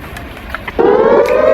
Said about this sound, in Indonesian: Ini adalah suara sirene tanda bahaya.